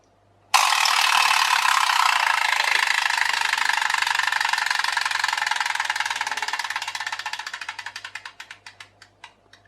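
Clockwork in a wind-up crocodile bath toy with flipper propulsion whirs loudly and close for several seconds. It gradually slows into separate clicks as the spring runs down.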